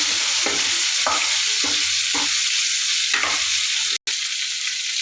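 A quarter kilo of sautéed okra sizzles steadily in a hot pan, with several distinct scraping stirs of a spoon over the constant frying hiss and no voices.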